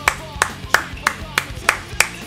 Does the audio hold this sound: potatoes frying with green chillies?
no